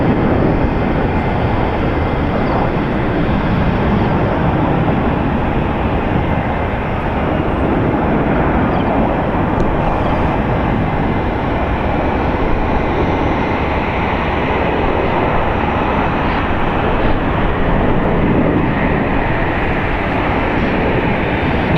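A Boeing 777 airliner touching down at San Francisco International Airport, heard as a loud, steady broadband roar of jet engines and rushing air that holds unbroken throughout, with no talk.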